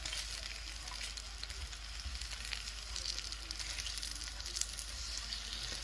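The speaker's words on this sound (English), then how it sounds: "You can see it's sizzling right away." Pork belly bacon sizzles on a Lone Star Grillz pellet grill, a soft, continuous crackling hiss that stays faint and even throughout.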